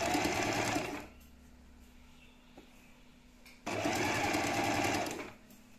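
Sewing machine stitching orange linen trousers, running in two steady bursts of about a second and under two seconds, with a quiet pause between them; the motor hums fairly softly and evenly.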